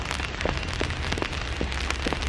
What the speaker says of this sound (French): Le parapluie parce qu'il pleut comme jamais.